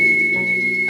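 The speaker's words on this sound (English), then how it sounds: "Can anyone hear a whistle?" A sustained high-pitched whistle holds one steady tone for the whole moment in a Doctor Who audio drama, pitched up to affect a creature, over a low murmuring background.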